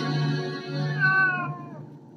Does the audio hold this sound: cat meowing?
yes